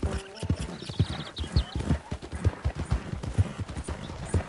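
Horse hooves clip-clop steadily in a PS4 video game, a quick regular rhythm of close, fairly loud hoof strikes, with a brief whinny and some faint game ambience behind.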